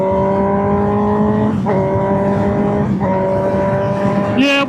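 Motorcycle engine droning steadily at low RPM during a relaxed ride, loud and close, with two brief dips in pitch as the rider shifts and a rising rev with wind rush at the end.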